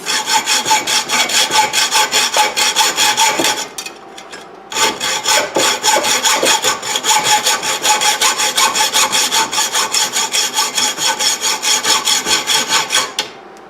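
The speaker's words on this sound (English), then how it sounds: "I'm just going to cut this thread off right here" Hand saw cutting off a threaded section of an old meat grinder being made into a lamp, rhythmic back-and-forth strokes, close and steady, with a brief pause partway through.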